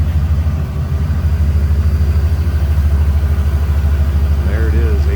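A 2001 GMC Sierra K3500 crew cab's 8.1 Vortec V8 with a cold air intake idles steadily up close, a deep, even low rumble throughout.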